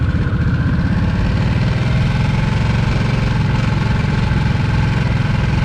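A 2023 Harley-Davidson Nightster Special motorcycle idles loud and close, its engine holding a steady deep rumbling throb throughout with no voices.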